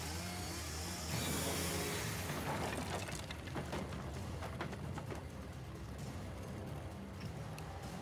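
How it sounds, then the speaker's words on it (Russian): A possessed boss's chainsaw in Alan Wake Remastered, a steady loud mechanical roar with rough revving throughout, and a brief laugh over it. "А вот он и босс с бензопилой"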